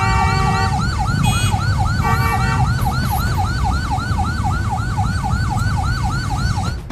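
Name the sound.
ambulance siren as military convoy and ambulance meet in traffic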